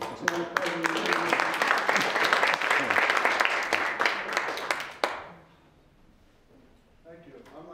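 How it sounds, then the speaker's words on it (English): Audience applause at a 2018 sustainability celebration, a dense, loud burst of many clapping hands that swells for about five seconds, then stops abruptly, leaving a quiet room with faint murmuring. "applause to our president"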